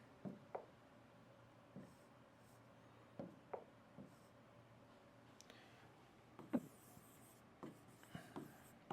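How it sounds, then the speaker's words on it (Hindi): Handwriting on paper while an exam question is copied out: quiet scratching pen strokes and small taps come in irregular clusters with short gaps, soft and close, and no one talks. "अब क्वेश्चन नंबर 3 हम लिख लेते हैं।"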